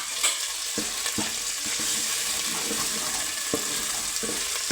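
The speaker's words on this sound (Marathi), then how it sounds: "बघा सगळा मसाला किती छान परतला आपला" Masala spice paste with turmeric and fried onion sautéing in a pan over low heat, giving a dense, steady sizzle with intermittent scraping knocks of a spoon stirring it; no voices.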